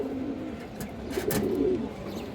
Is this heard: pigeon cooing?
yes